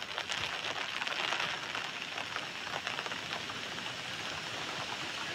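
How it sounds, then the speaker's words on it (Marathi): Heavy monsoon rain pours steadily in western Kolhapur district, a dense, even hiss of drops striking surfaces with no talking. "कोल्हापूर जिल्ह्याच्या पश्चिम भागात मुसळधार पाऊस सुरू आहे"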